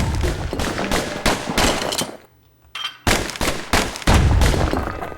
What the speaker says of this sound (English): What's better than having a slinger pistol in a fight? Having two.